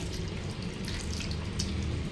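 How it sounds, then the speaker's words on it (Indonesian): Running tap water pours steadily as hands are rinsed under the flow to wash away soap foam, a continuous close splashing rush with no pauses. "Kemudian, bilas menggunakan air mengalir hingga tidak ada busa yang bersisa."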